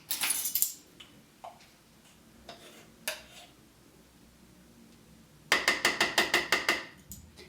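A food processor blade and bowl being fitted and locked into place, with scattered plastic clicks and clatters, then a quick run of about eight sharp ratcheting clicks as it twists shut, close and without talk.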